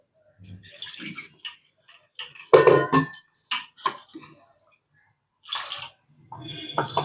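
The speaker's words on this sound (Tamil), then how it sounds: "கொஞ்சமாக தண்ணி ஆட் பண்ணி மிக்சி சாரை அலம்பி ஊற்றிக்கலாம்" Water splashes and swirls inside a mixer jar as it is rinsed, then pours into a cooking pot in short bursts with clinks of the jar, amid quiet pauses.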